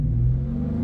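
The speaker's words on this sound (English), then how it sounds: "So if we do slight revs" A 2019 Dodge Charger engine idling with a slight rev, a steady low rumble swelling a little and settling back, close and fairly loud with no talking.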